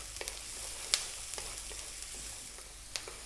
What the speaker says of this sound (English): Let's drop in that 1 cup of onion, and we're going to cook this on this above medium heat for 3 minutes.